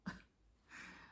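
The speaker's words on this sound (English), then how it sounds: "then I had to cough" A single short cough, close and fairly soft, followed by a breathy exhale.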